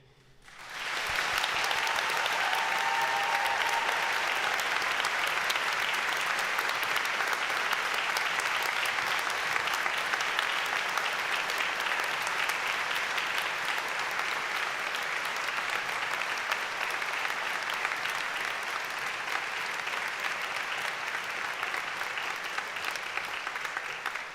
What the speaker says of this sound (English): please join me in giving a massive round of applause for everyone here today